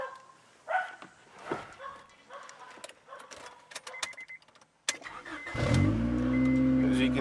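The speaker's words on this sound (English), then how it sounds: "Let me turn the car on so you can see how everything's running." A 1997 Honda Accord EX starts near the end, its engine catching and settling into a steady, loud running drone with a slightly louder-than-normal exhaust, after a stretch of scattered handling noises and clicks.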